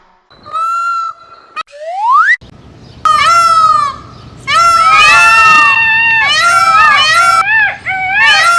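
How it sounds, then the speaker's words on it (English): A peacock gives loud, piercing calls, several sharp rising wails in short bursts with brief gaps, close to the listener and with no talking. "Peacock."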